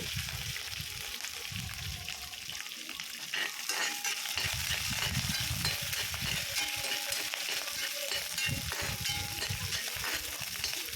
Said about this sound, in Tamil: இப்போ பச்சை மிளகா ஆட் பண்ணி நல்லா அதையும் ஒரு வதக்கிடுங்க